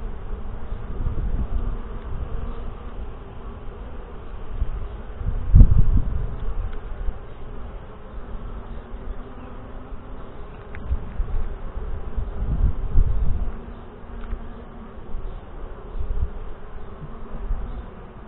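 Honey bees buzzing steadily around an open Saskatraz hive during a frame inspection in northwest Wisconsin, a dense, continuous hum with occasional louder passes near the microphone and soft handling bumps.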